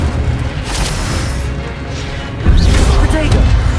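An Incendio fire spell cast in a Harry Potter video game bursts into a booming, crackling blast midway through, loud and near, over a steady rumble of in-game combat noise.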